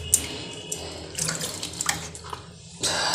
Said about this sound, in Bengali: আর এক হাতে শাকটা ধুচ্ছি।